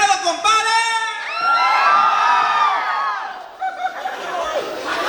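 At a wedding celebration in San Agustín Oapan, a crowd shouts and cheers together in a loud, rising collective yell, with scattered voices and laughter following as it fades.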